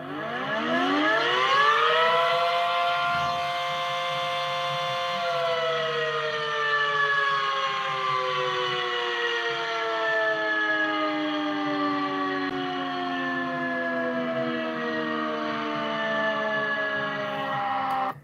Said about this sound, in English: See if you can guess this siren.